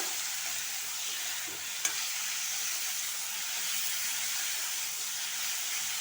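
Pumpkin pieces frying in oil in a pan, giving a steady close sizzle and hiss with one small tap partway through and no talking.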